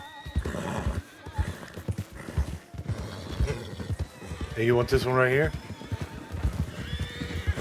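A horse in Red Dead Redemption 2 gives a loud, close whinny partway through, amid clip-clopping hooves, while someone talks over much of it.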